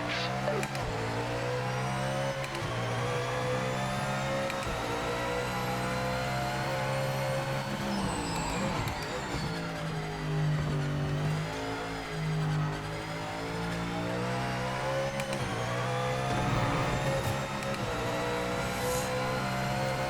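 A GT3 race car in the racing game Project Motor Racing drones and revs continuously, with engine pitch climbing and dropping through gear changes and a brief dip mid-lap, loud and steady without pause.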